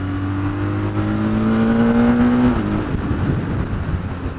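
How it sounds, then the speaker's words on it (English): A motorcycle engine revs hard under acceleration, its whine climbing steadily before a quick-shifter gear change cuts in, then it pulls again at a lower pitch; loud and close, with no talk. "when you ride it like this, the quick shifter is smooth"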